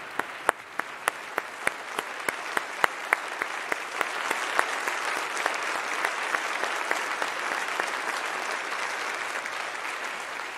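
A church congregation applauds veterans and active service members: a few distinct claps at first quickly swell into sustained, even applause that fills the room.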